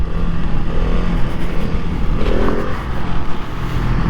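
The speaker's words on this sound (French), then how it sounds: "Un petit coup de gaz, ça y monte tout seul." KTM 690 SMCR supermoto single-cylinder engine given a quick blip of throttle, rising briefly from a rough idle rumble and settling back, close and loud with no talking.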